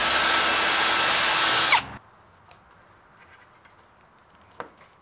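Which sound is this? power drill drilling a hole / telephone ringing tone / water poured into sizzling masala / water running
power drill drilling a hole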